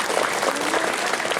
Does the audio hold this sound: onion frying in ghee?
no